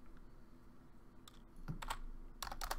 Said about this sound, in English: If I could also type and have it not be super loud on the keyboard